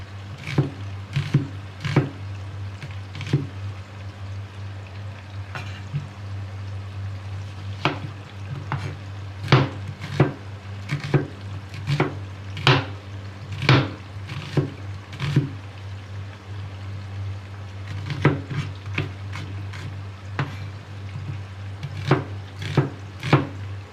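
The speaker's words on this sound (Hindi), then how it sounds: "कट गई प्याज।" Knife chopping onions on a board for a spicy desi mutton and bitter gourd dish, with irregular bursts of sharp close taps over a steady low hum.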